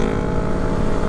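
A Honda ADV 160 scooter with an R9 aftermarket exhaust rumbles steadily and loudly nearby, a continuous dense engine drone on a quiet street at night in Seminyak, Bali.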